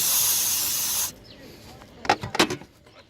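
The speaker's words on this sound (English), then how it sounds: "Take your can, spray it." A loud, steady hiss of an aerosol cleaner can spraying for about a second while cleaning a 2008 Volvo S60 electronic throttle module, then quiet with a few clicks and rustles.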